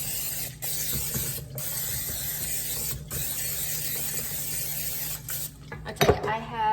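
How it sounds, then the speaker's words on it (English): Cooking spray misted into a glass 9x13 baking pan, several close hissing bursts separated by short pauses, ending with clattering handling noise. "I'm using a glass 9x13 pan, and I'm gonna spray it up."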